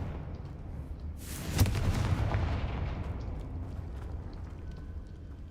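Confringo fire spell detonating in Hogwarts Legacy, a sudden sharp blast followed by a rumbling, crackling burst that slowly fades into low background noise; no talking.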